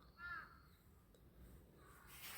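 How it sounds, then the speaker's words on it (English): Crows calling outdoors at a spot where they gather daily, with one clear caw near the start and fainter calls later, over quiet ambient background. "the crows like to meet out here every day, and you can hear them chatting"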